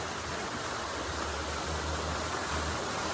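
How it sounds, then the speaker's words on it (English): A waterfall at a La Fortuna hot springs resort in Costa Rica gives a steady, broad rushing roar, unbroken from start to end. "But look at the beautiful waterfall."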